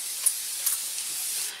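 Evian facial water spray gives one continuous close, bright hiss of fine mist lasting over a second, with small bursts near the start, then stops abruptly.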